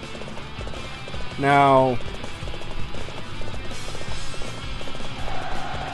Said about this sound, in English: we're gonna call on the horse